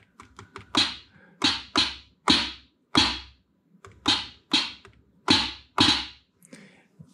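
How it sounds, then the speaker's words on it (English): Roland CR-78 drum machine triggered over MIDI with accent turned all the way up, playing a pattern of crisp, snappy percussive hits where the accented strikes jump out much louder than the softer ticks between them, with dry gaps between hits. "When we have the accent turned up all the way, there's really quite a difference in the volume."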